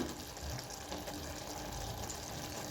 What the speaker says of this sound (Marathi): आता आपण थोडं पाणी टाकायचं आहे